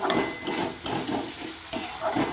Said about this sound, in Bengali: এবার ভালো করে কষব দেখুন বন্ধুরা ভালো করে কষতে হবে